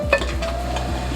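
Ground beef stirred in a hot pan for chili cheese macaroni, a short burst of sizzling with a utensil scraping through the meat and a light clink against the pan.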